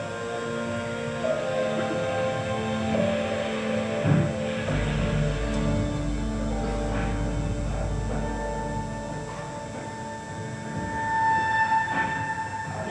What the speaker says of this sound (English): And the train started to move.